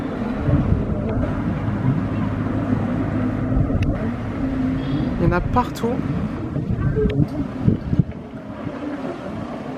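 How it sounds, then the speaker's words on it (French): Jet skis race at a jet ski championship on the coast at Dieppe, engines droning and whining at a distance under steady wind noise, with someone speaking over the roar and a brief rising engine rev midway. "c'est le championnat de jet ski du Grand Ouest"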